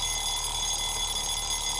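Alarm clock ringing in the video game NAMELESS, a continuous tonal ringing with steady high harmonics and a faint rapid pulse underneath, with no talk.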